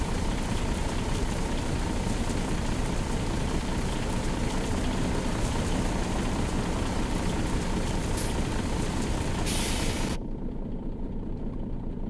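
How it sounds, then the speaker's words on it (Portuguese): Steady rain patters in the truck driving game On The Road - The Truck Simulator on PlayStation 5, a dense hiss mixed with a low truck engine rumble; the noise drops abruptly near the end. "O som da chuva."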